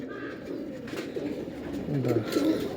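Pigeons of the Feroz Puri (Piplan) breed coo softly in a steady, low murmur, with a few louder coos standing out near the end and faint voices in the background.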